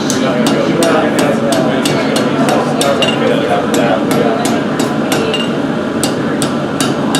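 Ball peen hammer striking metal during forging, a loud regular series of sharp clanging blows repeated about every quarter second, steady rhythm over a continuous background rumble.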